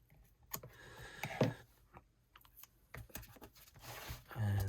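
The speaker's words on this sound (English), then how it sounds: "Just trim that off." Paper is trimmed for an envelope memory album, with light snips, scratchy rustles and small clicks scattered irregularly at close range, ending in a low hum.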